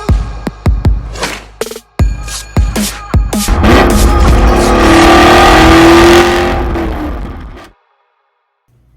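A Camaro SS 1LE fitted with an MBRP race catback exhaust barks through a string of sharp throttle blips, then holds a long, loud rev before cutting off into silence.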